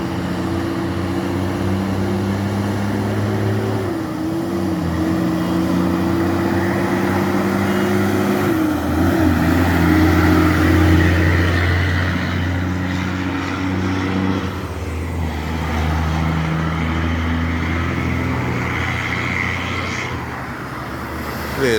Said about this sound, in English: Listen to this smooth gear shifting, the man.